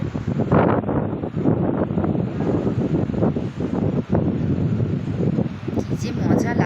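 Sea breeze at Mandarmani beach, loud wind buffeting the microphone continuously with waves faintly beneath, while voices talk over it.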